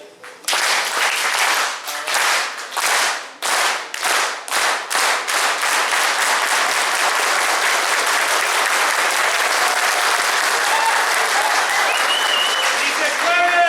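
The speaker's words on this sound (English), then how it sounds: "we get a nice farm workers clap" A packed breakfast audience at a Cesar Chavez awards event in Gilroy, California performs the farm workers clap: slow, loud, unison claps that steadily speed up into a rapid roll, then break into sustained applause with some cheering.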